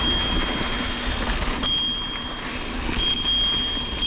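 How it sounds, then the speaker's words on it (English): Bicycle bell on a mountain bike ringing in a few bright, sustained dings over steady rolling and wind rumble on a sandy desert trail at San Tan Mountain. "Sorry for the bell noise, but I can't see around the corners here."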